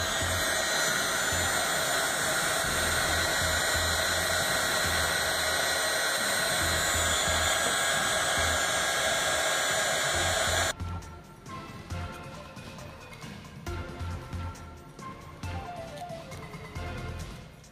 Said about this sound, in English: use my heat gun